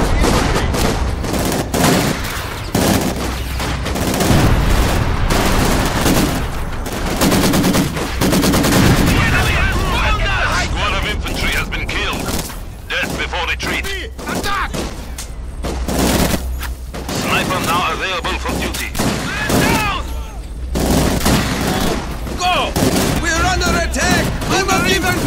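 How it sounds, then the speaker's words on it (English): Heavy World War II battle at Stalingrad in Company of Heroes 2, with sustained loud gunfire, rapid machine-gun bursts and booming artillery blasts close by, while voices shout over the din. "Incoming artillery!"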